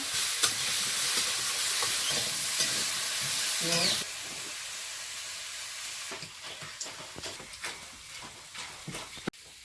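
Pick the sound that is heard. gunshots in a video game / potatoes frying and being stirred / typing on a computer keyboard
potatoes frying and being stirred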